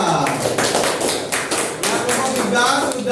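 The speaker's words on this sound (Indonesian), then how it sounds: "Tepuk tangan buat kelompok 3." Classroom applause for a student discussion group, a dense patter of hand claps and taps running steadily throughout, with the students' voices mixed in under the clapping.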